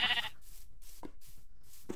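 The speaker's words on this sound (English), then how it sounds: "I'm gonna make all these sheep colored." Sheep bleating in a blocky sandbox video game, a couple of short close bleats separated by quiet gaps, with soft rhythmic clicks in between.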